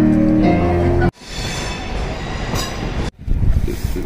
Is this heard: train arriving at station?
yes